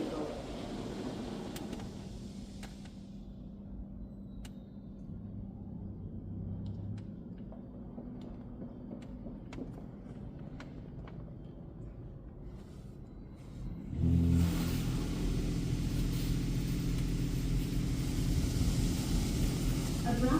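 A Washworld Razor XR-7 car wash at a Chevron station sprays foam protection onto a car. A low steady rumble and hiss surround the car, with a faint recorded announcement voice. Partway through, a louder surge of spraying and blowing takes over.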